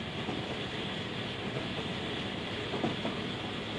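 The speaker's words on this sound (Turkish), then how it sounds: "tünelden trenin geçişiyle beraber hareket sensörlü aydınlatmalar sırayla yanmaya başlıyor" The Eastern Express train runs through Deliktaş Tunnel, its dense, steady roar filling the enclosed space, with faint rail clatter under the constant rumble and no voices.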